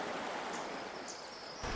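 A river flowing past a riverside campsite in the Cameron Highlands jungle near Pos Lemoi, a steady broadband rush of water that holds constant for under two seconds and swells slightly at the end.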